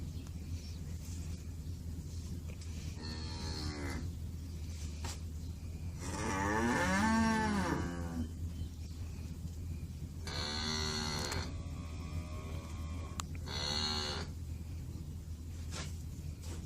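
Several cattle moo, turned out to pasture for the first time, with a handful of long drawn-out calls spaced over a steady low background hum, moderately near.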